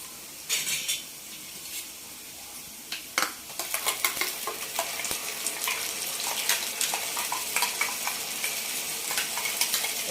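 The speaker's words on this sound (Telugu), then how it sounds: "ముక్కలు వేగినాయండి, పేస్ట్ వేసుకుందాం." Eggplant pieces frying with a ground paste in a pan, stirred steadily: a continuous close sizzle with scraping and clinks of the spoon against the pan, getting busier after the first few seconds, with no voices.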